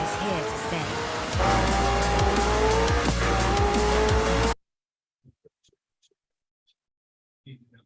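A car races with loud, sustained tire squeal and engine roar in the Forza Horizon video game, continuing for about four and a half seconds before cutting to near silence with a few faint clicks.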